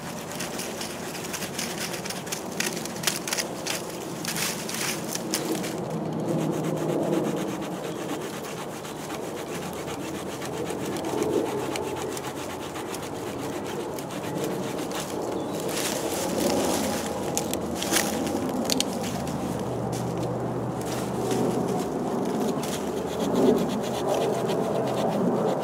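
A small penknife saw cuts through wood while carving camp cookware, a close, steady rasping back-and-forth sawing that continues for the whole stretch without talk.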